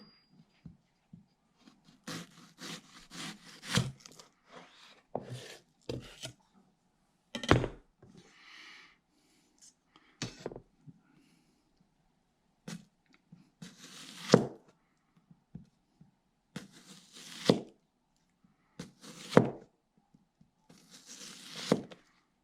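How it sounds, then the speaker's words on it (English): An ordinary onion is sliced thinly with a Paderno chef's knife on a board, giving a steady series of close, crisp cuts and thunks separated by short quiet gaps. "Standard onion. Paderno knife. Try to cut nice and thin."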